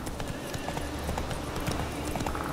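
Horse hooves galloping in The Witcher 3: Wild Hunt, a rapid, continuous drumming of close, loud hoofbeats across the whole stretch.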